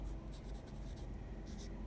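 Pen or marker writing out numbers during a maths lesson on factors, giving faint, close scratchy strokes in short bursts with a pause between, quiet and without talking.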